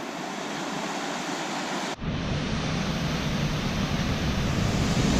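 Rushing water roars at the base of a waterfall, a loud steady broadband wash heard close up with no voices, briefly dipping before resuming even stronger.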